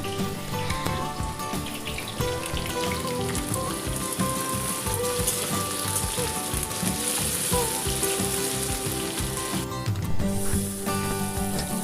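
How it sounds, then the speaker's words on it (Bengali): Potatoes and okra frying in a pan, a steady dense sizzle running throughout with a few faint tonal tones layered over it, no voices. "আলু আর ভেন্ডি ভেজে নিয়েছি ভালো করে"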